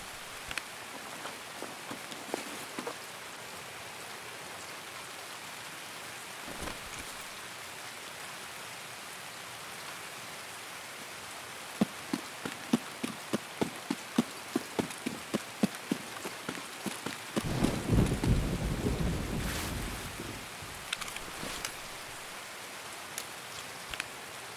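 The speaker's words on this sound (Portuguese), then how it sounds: "essa chuva não deixou eu ouvir nada" Steady rain hiss from an Escape from Tarkov match, with a run of sharp clicks and thuds near the middle and a louder, rumbling burst toward the end that may be thunder, fairly quiet overall with no talk.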